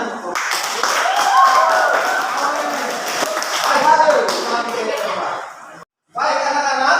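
Classroom of students clapping for a group that presented, lively uneven clapping mixed with chatter and laughter, cutting off abruptly before more voices resume.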